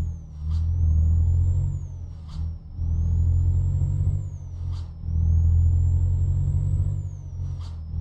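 Air brakes of a loaded Volvo FH truck carrying concrete pipes in a Brazilian roads driving game, sharp hissing bursts recurring roughly every two seconds over a steady low diesel engine drone.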